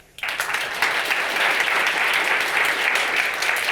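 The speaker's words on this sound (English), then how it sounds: "Never got so much applause here." Applause from a conference audience breaks out suddenly and holds steady as dense, loud clapping for several seconds.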